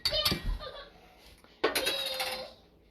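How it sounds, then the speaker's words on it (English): A whisk mixing Italian seasoning and dill in a bowl, two quick bursts of bright metallic clinking and rattling against the bowl, close and clear, with a faint voice underneath. "You can use a fork, but I like using my whisk."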